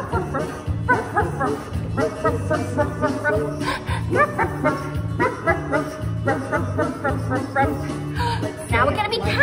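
Children's voices imitate a dog barking, chanting repeated woof-woof sounds in a steady rhythm over music during a sing-along.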